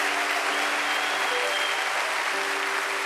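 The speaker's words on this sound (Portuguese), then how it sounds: "Aplauda o Senhor, esse tem que ser motivo de festa." A church congregation breaks into sustained applause during a sermon, a dense, even wash of many hands clapping at once. Faint voices sit low in the mix beneath the clapping.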